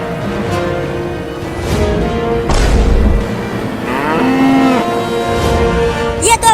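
A cartoon bull gives loud, drawn-out moos up close, two long bellowing calls with a brief break between them and a little background noise at the end.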